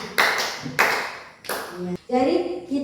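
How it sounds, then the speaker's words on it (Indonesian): A school class applauds a pupil in a coding lesson, several bursts of close, busy clapping broken by short pauses in an indoor room. "tepuk tangan dulu untuk Rifki"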